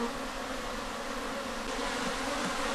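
A dense, continuous hum of many bees swarming around a hive during a transfer in Ghana, steady and close with no pauses.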